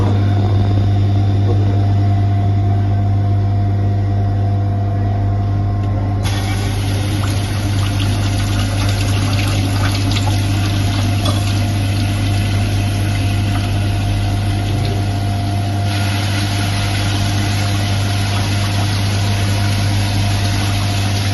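Water jet running from an opened tap in an impact-of-jet lab apparatus: a loud, continuous rushing and humming flow with a steady pump-like drone throughout, no voices.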